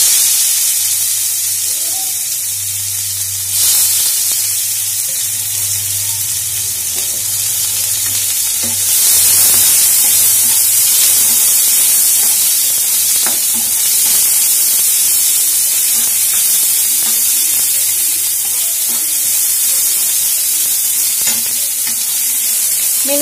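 Chopped onions hit hot oil in a pan for a katla fish and potato curry and fry with a loud, steady hiss and sizzle, broken by occasional stirring clicks, close and continuous with no talk.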